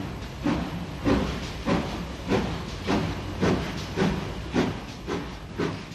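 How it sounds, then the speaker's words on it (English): GNR V-Class compound 4-4-0 steam locomotive No. 86 Peregrine starting a heavy Belfast to Dublin train, with loud rhythmic exhaust beats that come in steady pulses over a continuous steam hiss. "V-Class compound number 86 Peregrine, with an uncharacteristic slip, gets a heavy Belfast to Dublin train underway"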